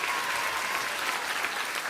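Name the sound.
audience applause for a rapper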